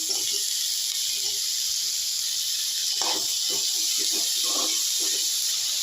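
Tomatoes, onions and dried chillies sauté in a pan for a spicy chutney, giving a steady, loud frying hiss with faint scattered crackles underneath.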